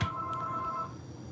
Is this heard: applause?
no